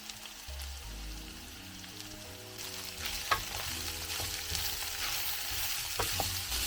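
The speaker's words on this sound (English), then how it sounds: "When the onions had nicely caramelized, I added in the garlic and ginger," Garlic and ginger added to caramelized onions in a pan while cooking wet fry pork; sizzling grows louder partway through, with stirring clicks and scrapes and a low hum underneath.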